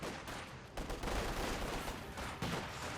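Two light machine guns fired by Soviet Guardsmen in Company of Heroes 2 rattle in dense, sustained bursts that overlap into a loud, continuous crackling barrage with no voices.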